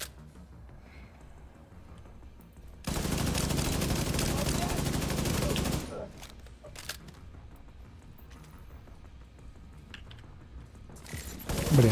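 A sniper turret in a video game fires a sustained burst of loud, dense gunfire lasting about three seconds, followed by scattered quieter shots and game sounds.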